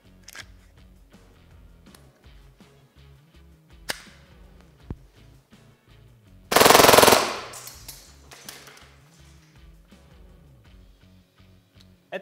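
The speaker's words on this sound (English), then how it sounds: "And presto, single fire." A WE Galaxy G gas airsoft replica, loaded with 0.2 g BBs and gas, fires a single shot: one loud, sharp, close burst that stands out against a quiet background with a few small clicks around it.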